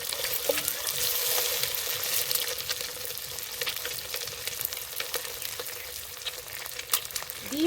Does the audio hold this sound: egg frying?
yes